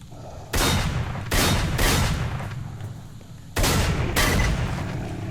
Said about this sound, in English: The gun that's good for bloodsuckers. Blooming auto shotgun.